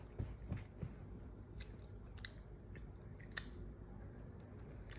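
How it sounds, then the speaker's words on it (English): A cookie is chewed close to the microphone: quiet, irregular crunchy bites and soft mastication sounds, with a few sharper crackles scattered through the clip. "This cookie is good though."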